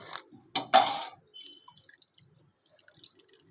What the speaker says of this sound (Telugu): ఇలా స్ట్రైన్ చేసుకున్న వాటిలో మనం చల్ల నీళ్ళు కూడా పోసి